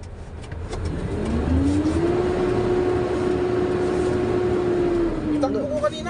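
A Hino 700 Series truck engine with a low-power fault runs steadily up close, its droning hum rising in pitch, holding level, then easing back down, with faint clicks and knocks around it.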